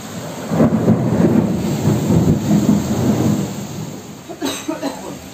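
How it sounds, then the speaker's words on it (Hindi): Heavy rain pours down under deep, rolling thunder that rumbles throughout, with a sharper crack of thunder near the end. "कितनी ज़ोरदार बारिश हो रही है और साथ ही बादल गरजने की आवाज़ कितनी ज़ोर ज़ोर से आ रही है"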